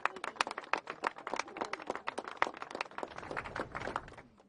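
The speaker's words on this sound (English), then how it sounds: "give him a round of applause" Applause at a press conference held by Breonna Taylor's family, a small group clapping in clear, distinct claps that run unevenly for several seconds before tapering off, fairly close and moderately quiet.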